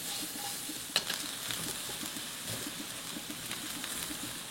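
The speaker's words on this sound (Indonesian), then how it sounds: "Sekarang kita tumis bawang putihnya." Garlic sautés in margarine in a pan, a steady soft sizzle with occasional stirring scrapes and a single sharp clink near the start, close and even throughout.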